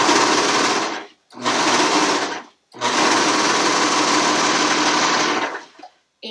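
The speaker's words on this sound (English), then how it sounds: "and start to serge. And you're going to see how fast this goes." A serger sewing machine stitching fabric at high speed, loud and close, in three continuous whirring runs separated by short pauses, with no talk.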